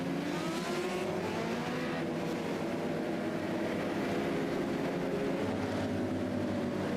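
Race cars run laps at Charlotte Motor Speedway, a dense continuous engine roar with overlapping droning tones from several cars at a distance, steady and loud throughout.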